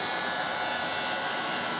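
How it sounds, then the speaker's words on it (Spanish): Hair dryer used as a heat source on the screen edge of a 2019 iMac to soften adhesive, giving a steady, loud, close-up airy roar with no talk. "Si no tienen una pistola de calor, lo pueden hacer con una secadora de pelo."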